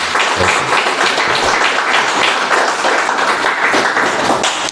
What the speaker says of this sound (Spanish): Vamos a dar un fuerte aplauso a la palabra de Dios.